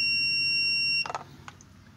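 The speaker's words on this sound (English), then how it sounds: "When you put those two together, it'll beep." A steady high-pitched electronic beep from a continuity tester completing a circuit holds for about a second, then cuts off, followed by a few faint clicks and taps.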